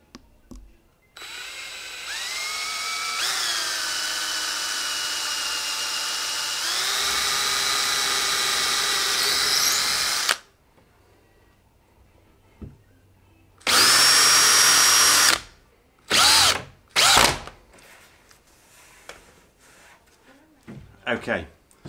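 A power drill drives screws into the frame of a homemade hydrodipping tank: long, loud, rising whines for about ten seconds, then a few shorter, sharp bursts separated by pauses.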